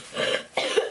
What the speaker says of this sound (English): See, I told you I was sick, I was coughing.